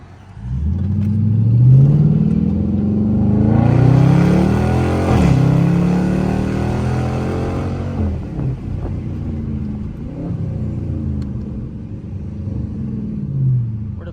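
A Dodge Charger R/T revs hard in a residential neighborhood, its engine surging and rumbling loud and close, rising in pitch through repeated throttle blips before settling into a steady, throaty drone.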